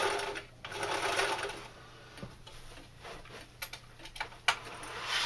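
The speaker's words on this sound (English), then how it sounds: "We're going to run one line of stitching here" A sewing machine runs a line of stitching on a leather knife carrier, a fast steady whir with ticking needle strokes at close range, pausing briefly and restarting several times.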